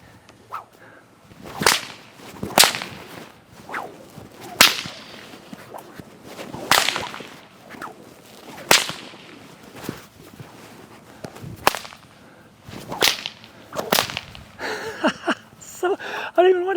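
An Indiana Jones style whip is cracked again and again, roughly every two seconds, giving sharp, loud snaps with quiet gaps between them and a faster burst near the end.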